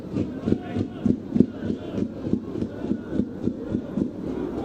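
Home football supporters at Haverfordwest County's ground singing and chanting against The New Saints, a steady crowd roar with rhythmic rising chants, fairly close and continuous.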